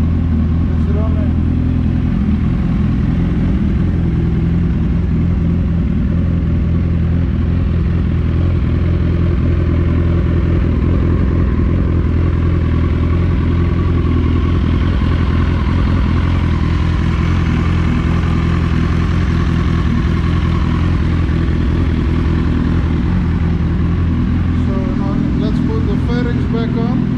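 A first-generation Suzuki Hayabusa motorcycle engine runs loud and steady at close range after a radiator upgrade, a continuous low idling rumble with some clatter and no pause.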